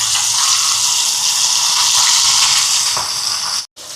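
Fish is frying in hot oil, making a loud, continuous bubbling sizzle with a steady hiss that holds throughout and cuts out briefly near the end.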